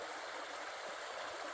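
A stream at a creek crossing on the Appalachian Trail gives a steady, faint, hissing rush of running water with no voices.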